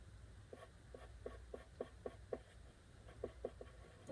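A pencil shades on paper in soft, rhythmic scratching strokes, faint and close, repeating about every quarter second with small pauses.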